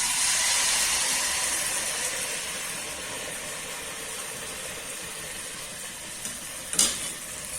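Banana fritters (pazhampori) fry in hot oil on a full flame, making a continuous close sizzling hiss that eases slightly over time, with a brief metallic clink near the end.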